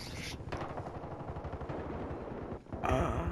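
Rapid automatic gunfire in the shooter Battlefield Hardline during a large conquest match, a dense steady rattle of shots hitting the player, fairly quiet and continuous, ending in a brief gap and a sharper burst.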